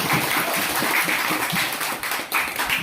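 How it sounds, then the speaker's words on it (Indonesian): A short burst of applause from a group in an online class, a dense patter of many hands clapping at moderate volume for a few seconds. "Tepuk tangan."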